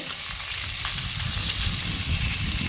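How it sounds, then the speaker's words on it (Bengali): Catla fish fries in hot oil with a steady, close, continuous sizzle and crackle that holds evenly throughout, with no voices over it. "মাছটা লাল করে ভেজে নিতে হবে"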